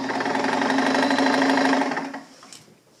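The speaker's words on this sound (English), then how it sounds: "So now when the wheel turns, the whole machine turns like this." A sewing machine runs steadily with a fast mechanical whir as its hand wheel is turned, then winds down and stops after about two seconds, close and loud with no talking.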